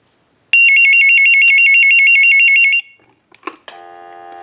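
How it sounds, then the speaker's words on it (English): A Hollywood desk telephone bell rings once in a steady, loud burst of about two seconds. Faint clicks and a low hum follow. "We'll let a ring cycle go back on here."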